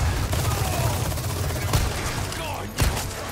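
Submachine gun fire in Resident Evil 4, rapid continuous gunfire bursts with sharp louder cracks standing out over a dense game soundscape.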